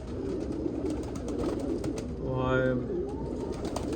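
Pigeons cooing close by, one drawn-out coo standing out clearly partway through, over a background of other birds and a short spoken word.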